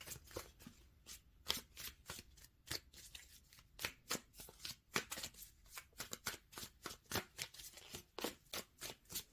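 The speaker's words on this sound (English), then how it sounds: "the cards are going all over the place" Tarot cards are shuffled by hand in a quick, rhythmic series of crisp riffles and slaps, close and fairly quiet, with no talking.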